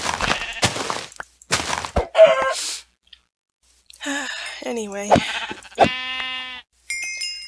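Blocky Minecraft sheep bleat in quick wavering cries mid-game, mixed with sharp game hit effects, while someone talks over the top.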